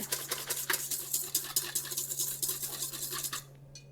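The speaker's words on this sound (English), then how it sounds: "Those 3 things whisk together" Royal icing ingredients being whisked together in a bowl, a fast steady run of light clicking, rattling strokes, close and moderately quiet, stopping abruptly near the end, no voices.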